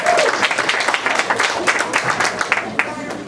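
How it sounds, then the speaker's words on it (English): Audience applause for Guild members celebrating their 50th anniversary: close, lively clapping from a modest crowd with irregular sharp claps and a faint voice near the start. "So let's give them a round of applause again."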